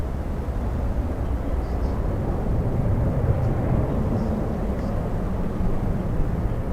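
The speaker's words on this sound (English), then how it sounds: "we have an Atlas 747 flying in from Anchorage" An Atlas Air Boeing 747 freighter arriving from Anchorage gives off a steady, loud low roar of jet engines. The rumble holds even and broadband the whole time, with no talk over it.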